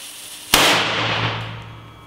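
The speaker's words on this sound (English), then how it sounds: "My idea is these Pokemons wrapped up with fireworks." Fireworks exploding on wrapped-up Pokemon toys: a single sharp, loud blast bursts out, followed by a long crackling, hissing decay with a low ringing hum that fades over two seconds.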